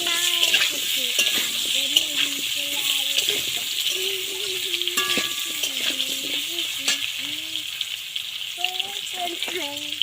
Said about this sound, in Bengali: এবার আলুটা দিয়ে একটু লাল লাল করে আলুটা ভেজে নেব